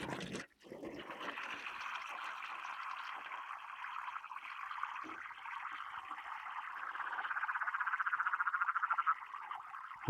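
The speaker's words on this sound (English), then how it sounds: "Hear the frogs going off." A dense chorus of frogs croaks steadily and loudly, with a rapid pulsing rhythm building toward the end.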